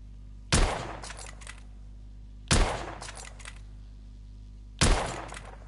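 Three sharp rifle shots fire at roughly two-second intervals in The Order: 1886, a Victorian-era shooter, each a loud, close crack with a short decaying tail and brief clatter after it.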